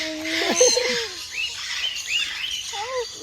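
Several small caged birds chirp and tweet close by in short, scattered calls, with faint background noise.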